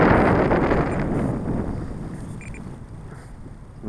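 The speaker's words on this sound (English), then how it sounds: "Icy, horrible, freezing cold wind." Icy, freezing cold wind buffeting a microphone outdoors, a loud broad rumbling gust that gradually eases over a few seconds before a fresh surge at the end, with no one speaking.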